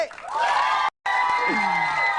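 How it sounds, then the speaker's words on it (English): Studio audience on the 1995 kids' game show Where in Time Is Carmen Sandiego, cheering and whooping with scattered clapping and children's shouts, loud and close, briefly cut to silence midway. "Big round of applause, everybody."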